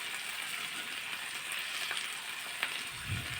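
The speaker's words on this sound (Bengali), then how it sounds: "পেঁয়াজগুলি আর আলুগুলো কেটে ধুয়ে নিয়েছি, তো সেগুলোই দিয়ে দিলাম ননস্টিকের মধ্যে ফ্রাই করার জন্য" Sliced onions and potatoes frying in a nonstick pan, a steady soft sizzle with occasional faint crackles and a light stirring scrape near the end.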